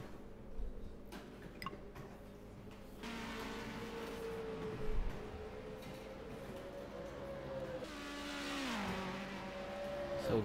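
Supercars in the Hyper Stimulator NZ Supercars League racing game at Queensland, engines droning steadily with a pitch sweep as cars pass, a faint ticking underneath, no talk.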